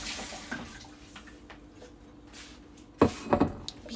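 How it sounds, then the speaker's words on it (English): Water runs and splashes while a bowl is rinsed after a salad snack, a low steady flow with a few sharper sloshes and clinks near the end. "let's rinse this out"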